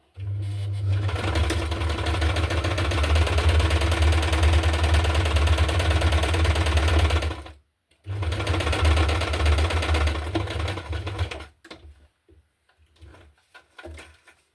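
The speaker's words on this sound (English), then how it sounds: "I like to backstitch at the beginning, at the end as well, just to make it stay in place securely" Sewing machine backstitching through layered fabric and paper for handmade journaling cards: a loud, steady motor whir with a brief stop midway, then a second run ending in a few light clicks and handling sounds.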